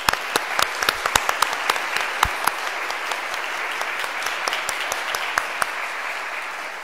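A church congregation at a Saturday vigil Mass applauds its deacons: steady clapping from many people in a reverberant space, with a few sharp louder claps standing out near the start.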